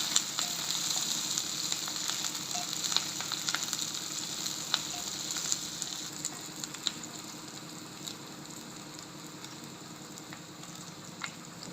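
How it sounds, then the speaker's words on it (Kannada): Garlic, onion and green chili browning in oil in a pan, giving a steady close sizzle and crackle with occasional small pops and stirring scrapes, gradually easing slightly in intensity, with no voices. "ಇದು ಚೆನ್ನಾಗಿ ಫ್ರೈ ಆಗೈತೆ, ಬ್ರೌನ್ ಆಗೈತೆ."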